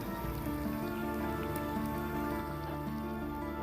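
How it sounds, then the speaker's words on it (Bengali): Pumpkin beguni fritters fry in oil over medium-low heat, producing a steady, dense crackle and spatter like rain on a surface, continuous and close with no voices. "আর বাকি কুমড়ানিগুলো আমি এভাবে ভেজে নিব"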